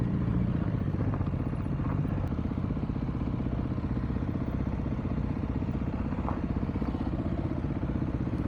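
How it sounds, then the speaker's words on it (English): Hunters' side-by-side utility vehicles loaded with gear drive along a Colorado trail, their steady mid-pitched engine drone and rattling clatter continuing unbroken at close range throughout. "Come up behind some hunters, looks like on their side-by-sides."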